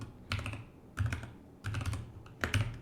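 Computer keyboard typed in short bursts while entering Python code, with clusters of soft clicking keystrokes separated by brief pauses, close and quiet, no talk.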